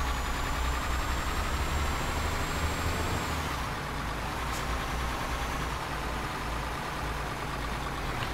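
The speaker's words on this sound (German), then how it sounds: "Ach, ich habe hier ein bisschen abgebremst." A heavy truck's engine drones steadily in Euro Truck Simulator 2 as it slows down, with a high whining tone fading out midway and a brief air-brake hiss, loud and continuous throughout.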